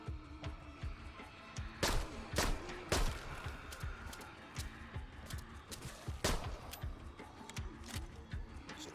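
Gunfire in the zombie shooter Arizona Sunshine's horde mode, several sharp shots at irregular intervals with the loudest bursts near the start and middle, over a steady background of game noise and faint talk.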